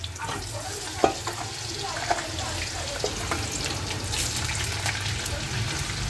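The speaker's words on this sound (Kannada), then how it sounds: "ನೋಡಿ, ಎಣ್ಣೆ ಕಾಯ್ತು. ಎಣ್ಣೆಗೆ ಹಾಕ್ತಿದ್ದಾರೆ." French fries bubble and sizzle in hot oil, a loud, continuous crackling fry close by with occasional clinks and faint voices in the background.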